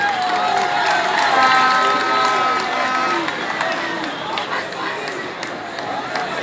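A large crowd of students in Kisangani applauds and cheers for the President of the Republic, a broad wash of clapping with raised voices and chatter mixed in, sustained throughout.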